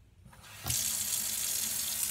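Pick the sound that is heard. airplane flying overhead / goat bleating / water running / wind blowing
water running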